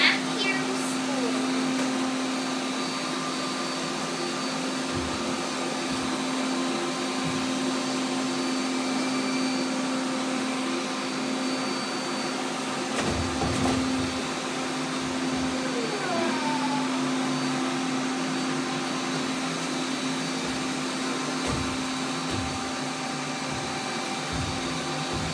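Robot vacuum cleaners deep-cleaning dust, dirt and debris, a steady close motor whine with a constant hum and occasional brief bumps and knocks, running for the whole stretch.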